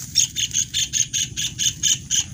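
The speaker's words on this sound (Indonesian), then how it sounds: "Ini tengkek udang guys ya." A kingfisher, the tengkek udang, calls loudly and close by, a fast series of about ten harsh, evenly spaced notes repeated in a steady rhythm.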